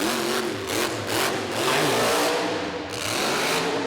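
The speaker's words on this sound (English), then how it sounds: "You hear the motor really revving up." A monster truck engine revs hard out on an arena track, loud continuous roaring with repeated surges in pitch, heard up close with no talk over it.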